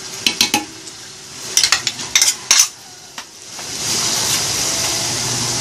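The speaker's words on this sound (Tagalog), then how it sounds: "Ilalagay na natin yung mushroom." Mushrooms going into a pan of Filipino-style spaghetti sauce: a run of sharp metallic clinks and scrapes from a utensil against the pan, then a steady louder sizzle as the sauce is stirred.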